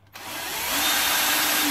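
A power drill spins up and holds a steady high whine as it bores through a metal bracket on an electric soap-box racer, loud and close.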